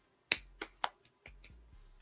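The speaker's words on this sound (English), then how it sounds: "I wish I could snap my fingers like my grandma." Several sharp finger snaps, three crisp ones in quick succession followed by a few softer, fainter snaps, close and alone with no talking, done in the quick rhythmic style of a Haitian grandmother.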